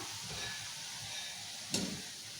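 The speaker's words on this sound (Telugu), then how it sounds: "ఇట్లా మంచిగా ఫ్రై చేసే ఇవి ఇట్లా వేసుకోవాలి మంచిగా నూనెలా" Mysore bondas fry in hot oil with a soft, steady sizzle, broken by a single sharp clink of a utensil partway through.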